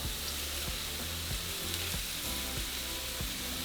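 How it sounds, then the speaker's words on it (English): Queso panela cheese sizzling loudly on a hot grill for a mixed seafood and meat molcajete, a steady dense crackle with soft repeated pops and scrapes throughout. "And now we can also grill our queso panela."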